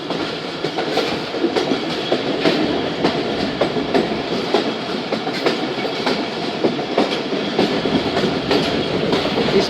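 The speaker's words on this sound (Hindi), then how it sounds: "बहुत ही स्लो पास हो रही है दोस्तों ट्रेन इस ब्रिज पर से" Jaffar Express passenger train crossing a bridge slowly on the Peshawar to Lahore line: a continuous rumble with a steady clickety-clack of wheels over rail joints, close and sustained throughout.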